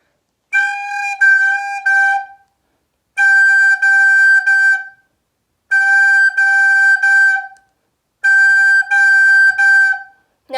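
Beginner's recorder sounding a G with all three left-hand fingers and thumb covering the holes, a clear steady tone played alone in four separate tongued phrases with short silent gaps between them.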